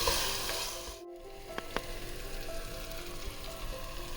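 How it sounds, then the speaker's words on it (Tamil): Tomatoes sizzle steadily in hot oil and biryani masala for a seerage samba chicken biryani, a continuous close frying hiss with a brief dip and a couple of sharp utensil clicks. "சேர்த்து இந்த தக்காளி நல்லா குழஞ்சிற அளவுக்கு வேக வச்சு வைக்கணும்."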